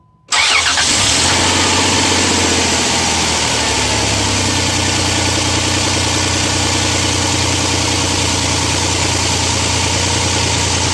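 A 2001 Dodge Caravan engine fitted with a new alternator catches abruptly from silence and settles into a steady, loud idle with a low, even hum and some mechanical vibration.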